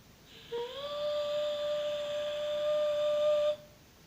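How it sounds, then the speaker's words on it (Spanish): Rodalies commuter train motor in Catalonia starting up, a steady rising electric whine with a pitch sweep at the onset that then holds a level tone for about three seconds before cutting off. "cómo suena el motor de Rodalías cuando arranca."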